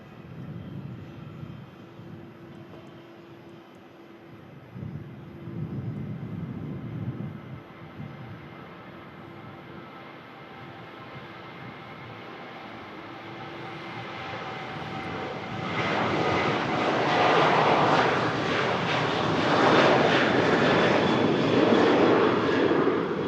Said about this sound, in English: Now we've got Ryanair just on the departure roll.